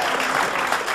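Applause from a French radio/TV game-show studio audience, a dense steady patter of many hands clapping close and loud throughout, with no speech over it.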